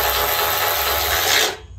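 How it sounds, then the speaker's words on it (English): Metal gazebo hardware being tightened, a continuous close scraping, ratcheting rub that holds steady and then stops abruptly near the end. "Okay, so you're going to want to tighten all 8 of these screws."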